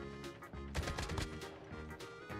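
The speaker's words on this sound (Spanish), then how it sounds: "Hay más disparos por la espalda." Gunfire in the Call of Duty Mobile video game, bursts of shots crackling over game music and ambience, loudest around the middle, with further scattered shots toward the end.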